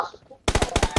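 Rapid video game gunfire in a shooter match bursts in loud and close after a moment of quiet, a fast string of sharp cracks that runs steadily to the end.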